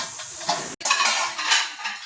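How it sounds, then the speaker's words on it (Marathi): Dishes and cutlery clatter and clink close by as they are washed in a village, with a brief silent gap partway through before the clinking resumes. "इकडे ते काकी भांडी धुते"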